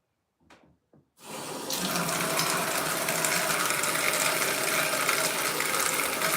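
Water runs steadily from a bathroom tap for hand washing, a broad continuous hiss that starts abruptly after a couple of faint knocks and carries on close and loud to the end.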